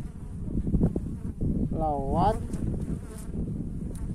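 A dense, steady buzz of honey bees working at a hive frame, close and continuous, with someone speaking over it briefly.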